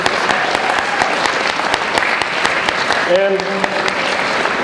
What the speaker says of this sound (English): Let's give them a round of applause for those 3.